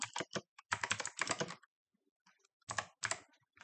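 Bursts of rapid typing on a computer keyboard while a command is entered in a terminal, quick close clusters of key clicks separated by a short pause, alone without talk.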